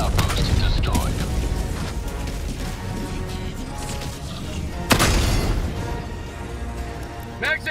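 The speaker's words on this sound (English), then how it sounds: "Calling in orbital strike." Orbital strike explosion in Helldivers 2 during an assault on an Automaton outpost, a sharp booming impact standing out midway through a constant churn of mechanical battle noise and rumble.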